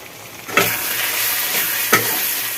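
Ground turmeric, cumin and coriander frying in oil for yogurt chicken, a bright steady sizzle close by, with two distinct stirring scrapes that briefly lift the hiss.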